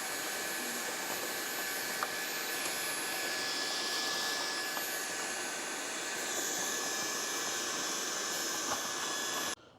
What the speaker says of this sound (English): And then you want to get your vacuum and just clean it in there.